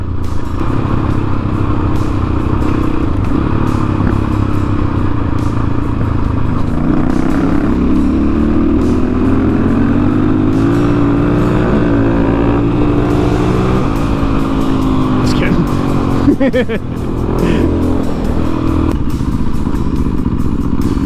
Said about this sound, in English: It's funny getting back on a dirt bike after riding an adventure bike all day.